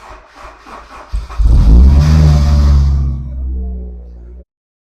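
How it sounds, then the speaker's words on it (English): A car engine cranks and catches after a jump start from a portable jump starter power bank, rising to a loud, steady idle rumble up close, then cutting off abruptly. "I'm going to go ahead and switch the key over and turn the car on."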